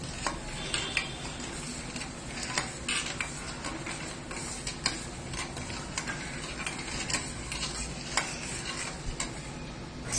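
A spoon stirs masala milk with dry fruits and sugar in a pot, giving continuous close scraping and clinking with light ticks against the metal over a steady sizzling bed, and no voices.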